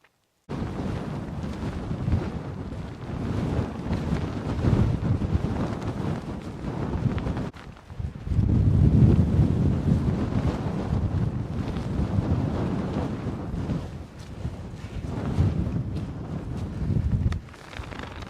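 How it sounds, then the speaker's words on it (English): Strong wind on a hilltop buffets the microphone continuously, a loud roaring rumble that surges and eases in gusts with no break. "God, I can hardly speak. It is so windy."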